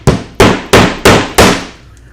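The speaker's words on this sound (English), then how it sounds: "I recommend hammering into wood instead of plywood, chips, and glue." Hammer driving nails into wood for a pom-pom making frame: five sharp, loud strikes in an even rhythm, each ringing briefly before the next, close by with no talk.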